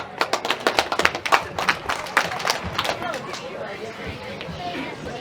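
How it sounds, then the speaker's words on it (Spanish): Guests at a 50th birthday party clap in sharp, distinct bursts that grow ragged and thin out, close and loud at first, then fade into scattered claps under murmuring chatter. "para quien pido fuerte voto de aplausos."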